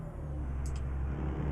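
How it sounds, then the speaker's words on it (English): A truck engine in American Truck Simulator drones steadily at idle with a deep, even low rumble, joined by a brief soft hiss partway through. "And this engine just sounds so damn good."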